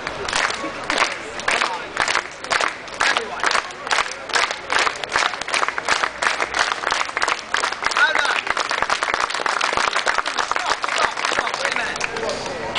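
A crowd at the Edinburgh arts festival claps hands together in a steady rhythm, sharp regular claps building in density, with voices mixed underneath.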